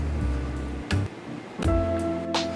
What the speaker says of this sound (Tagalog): maglalagay na po tayo ng tubig sa loob ng reserva natin